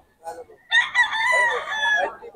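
Roosters crowing and chickens clucking at a live poultry market in Bocaue, a loud close crow stretching over a second after a few short clucks, with faint stall noise behind.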